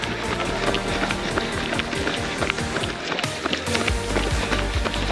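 Half marathon race on the Sunshine Coast: rhythmic, close running footfalls pound steadily with some wind buffeting, and there is no talking.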